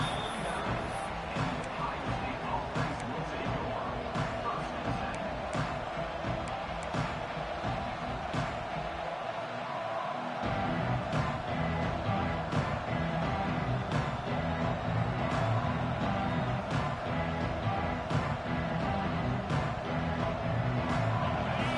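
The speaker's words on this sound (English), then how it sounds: "Listen to the crowd energy here in the early going." A large college football stadium crowd roars steadily during an Ohio State vs Alabama game, a dense continuous wash of cheering that swells slightly in the second half.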